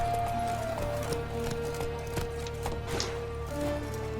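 Roach the horse galloping in The Witcher 3, steady quiet hoofbeats in a running rhythm under ambient music and background sound.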